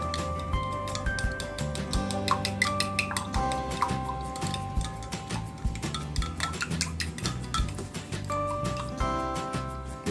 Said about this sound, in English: We're just going to take a spoon and get this all mixed together.